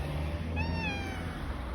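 A single cat meows once, a brief drawn-out call over steady background hiss and low hum indoors at home, no talking.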